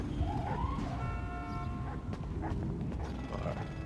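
A faint siren or horn from a passing vehicle on a city street, wailing briefly in the distance under close, low street noise and chatter.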